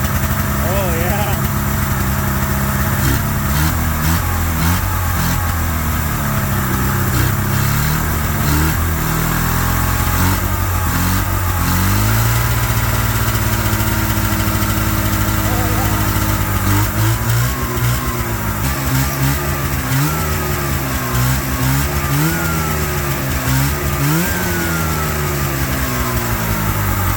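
An old Ski-Doo snowmobile that had not run in years sputters to life and keeps running loudly, its engine revving up and down in uneven surges, with someone talking over it.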